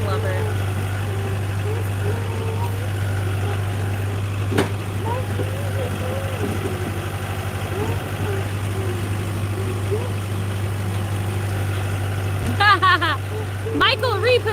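A tractor engine idles with a steady low, droning hum through the whole stretch. Occasional voices and a few short chirping sounds rise over it near the end.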